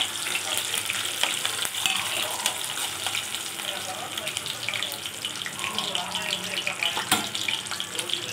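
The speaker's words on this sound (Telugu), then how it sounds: "ఉల్లిగడ్డ వేసుకొని ఉల్లిగడ్డ బాగా ఫ్రై అవ్వాలండి" Sliced onions sizzling in a hot pan for a liver fry, a continuous loud crackle and hiss with occasional stirring clatter throughout.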